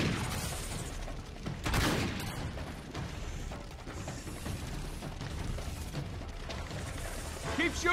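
Gunfire in the action game Uncharted 3, dense continuous shooting and impacts in a loud, chaotic firefight, with shouted voices mixed into the din.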